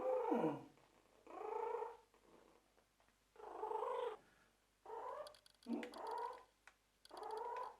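A kitten with an enlarged esophagus gives about seven short, close, clucking chicken-like calls, separated by brief quiet gaps.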